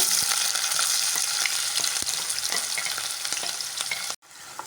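Onion frying with fenugreek and dried chillies crackles loudly in hot oil, a close dense sizzle with stirring scrapes that ends abruptly near the end.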